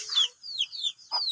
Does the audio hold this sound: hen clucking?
yes